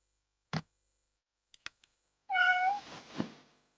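A cat meows once in a stretched, harmonic cry in the video game Nobodies: Silent Blood, preceded by a few sharp clicks and followed by a low thump, all in a quiet setting.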